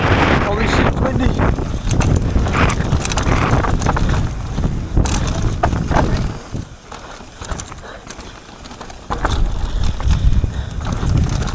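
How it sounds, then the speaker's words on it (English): Strong gusts of wind batter the microphone with heavy, roaring buffeting that swells and eases for several seconds, while a person speaks briefly beneath the noise. "Holy shit, it's windy."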